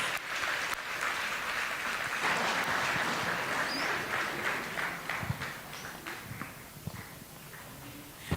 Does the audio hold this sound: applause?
yes